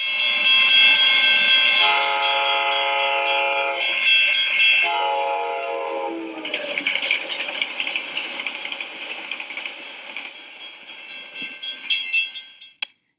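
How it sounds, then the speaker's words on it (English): Train horn blaring loud and sustained as it approaches, then its chord audibly drops in pitch as it passes and fades, leaving clattering rail and wagon noise that tapers off to silence. "listen to the train horn and how it sounds as it moves toward you and away from you"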